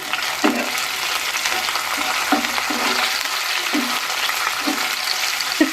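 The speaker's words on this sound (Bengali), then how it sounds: "এই পর্যায়ে আমি কিন্তু কাঁচা লঙ্কাগুলো দিয়ে দিলাম" Garlic and green chillies fry in hot oil for chilli chicken, a loud close sizzle with rhythmic stirring scrapes every second or so.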